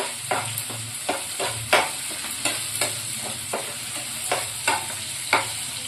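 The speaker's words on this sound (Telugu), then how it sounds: "బాగా వేగిపోతా ఉంది. వేగించేటప్పుడు కొంచెం కరివేపాకు అట్లా తీసుకోవాలి." Prawns fry with curry leaves in a pan, a steady close sizzle broken by repeated scraping stirs at an uneven rhythm.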